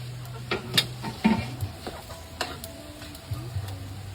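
Jackfruit cooking in a pan for ginataang langka, with soft sizzling and intermittent stirring clicks and taps against the pan, close and fairly quiet, no talk.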